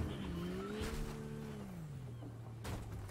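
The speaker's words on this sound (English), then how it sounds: "I'm just gonna grab the car and we're gonna try to flip it like this." A car in the Fortnite video game is grabbed and flipped on a ramp, its engine droning at a steady pitch that slides downward, with scrapes and a brief thump over a constant low rumble.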